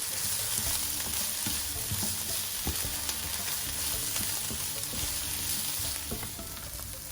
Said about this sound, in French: j'ajoute mes 4 gousses d'ail à la poêle et je laisse cuire encore environ